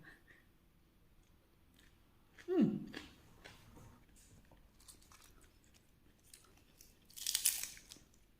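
Someone bites and chews raw garlic with a meal, with two separate close crunchy bursts against a quiet background.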